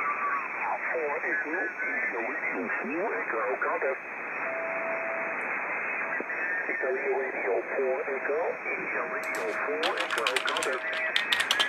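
An amateur radio receiver tunes across the band during a DX SSB contest, with warbling tones, chirps and fragments of voices and static passing by, and bursts of crackling near the end.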